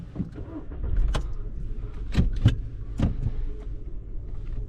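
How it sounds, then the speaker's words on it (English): A 2007 Audi A3 1.6 MPI being started, heard from the driver's seat: a few sharp clicks and a brief starter crank that settle into a quiet, steady engine idle, with no talk. "So let's start the car and let's go for a little drive."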